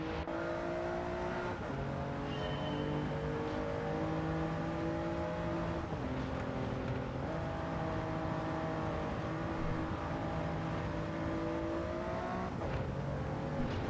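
A race car engine revs in a time-trial racing video game, its pitch climbing and dropping through repeated gear shifts, a loud, steady whine with harmonic layers that reset every few seconds, no voices.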